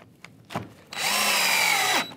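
A power driver runs a screw into a wooden vice-held end-grain guide, giving one steady, close whirring burst of about a second after a couple of light knocks.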